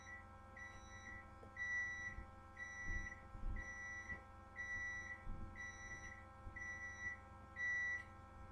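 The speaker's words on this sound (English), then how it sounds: "that is my dinner as you can hear, so let me turn that off so you don't have to hear that beeping" A kitchen appliance signalling dinner is done, repeating regular high electronic beeps at a steady rhythm, faint and somewhat distant, over low background rumble and handling noise.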